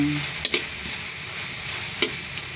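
Cooked tiny shrimp is stirred into banana heart simmering in coconut milk, with a quiet steady sizzle and a few sharp utensil scrapes against the pan, close by.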